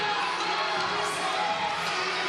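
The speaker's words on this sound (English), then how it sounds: "You're hearing a lot of cheers over there on B." A gymnastics championship crowd cheers from across the arena, a distant, fairly faint wash of shouts and applause sustained for a couple of seconds.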